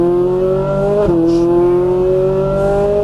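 A Ferrari 458 Italia or Nissan R35 GT-R accelerating on a racetrack, with a loud, steady engine drone that dips briefly at an upshift, then climbs again, close and continuous.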